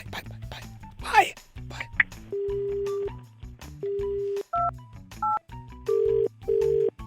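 Telephone keypad dialing tones in a call scene on a Hindi radio prank show, several steady two-tone beeps of varying pitch in a rhythmic sequence, with someone talking in Hindi and babble around them.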